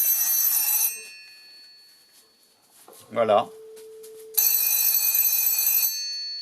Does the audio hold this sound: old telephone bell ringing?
yes